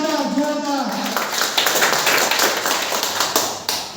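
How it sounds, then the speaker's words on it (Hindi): An audience claps in a hotel meeting hall, starting as a voice fades out and carrying on as a dense, moderately loud patter of hands for a few seconds. "सर के लिए एक बार जोरदार ताली होनी चाहिए"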